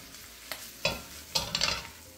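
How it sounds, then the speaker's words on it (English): Potatoes and garlic are stir-fried in a pan, with a soft background sizzle and a few brief scraping stirs and tosses close by, no talking. "Add the garlic in, stir fry it for a further 1 minute, tossing everything around"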